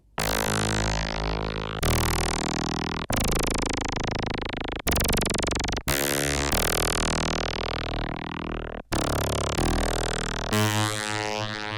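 Loud buzzy Moog Grandmother synthesizer tones sweep repeatedly as a sawtooth LFO raises and lowers the filter, each swept note cutting off abruptly before the next begins.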